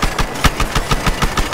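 SUV engine in the video game Battlefield Hardline: a loud, close, rapidly pulsing engine drone with a steady rhythmic throb throughout, no voices.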